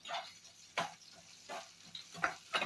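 Green onion sautés in about two to three spoonfuls of corn oil, with soft crackling sizzle and several brief stirring scrapes in quick, irregular bursts, faint and close.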